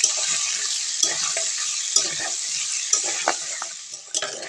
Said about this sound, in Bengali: আলুটা এবার ভালো করে ভেজে নেব